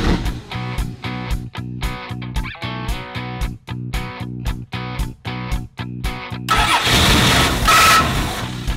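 A car engine cranking in a fast, regular chugging rhythm of repeated starter turns, loud and close, before giving way to a rougher, denser roar in the final seconds.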